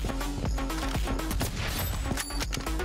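Rapid incendiary-magazine gunfire from a scoped rifle in the shooter game Blood Strike, a dense, continuous burst of loud shots running the whole way through without pause.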